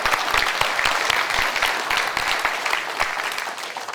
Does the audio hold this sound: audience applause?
yes